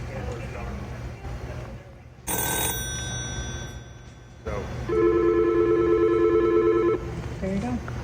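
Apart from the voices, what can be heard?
old telephone system ringing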